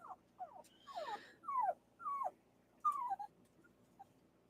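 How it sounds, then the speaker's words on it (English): A dog indoors lets out a string of high whimpering yips, about six short rising-and-falling cries in an uneven rhythm, close and fairly quiet, with no one talking. "Sorry about the dogs."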